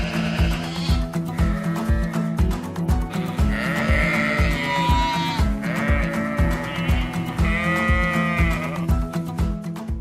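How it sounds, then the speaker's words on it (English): Sheep being shipped by sea bleat loudly and repeatedly, many animals calling over one another close by, backed by a steady rhythmic mechanical thumping. "Shipping sheep by sea ensures they arrive in good condition and ready for market, says Ahmed"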